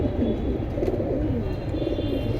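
A group of silver pigeons at a seller's stall keep up a constant chorus of low, rolling coos, close and fairly loud, with no voices over it.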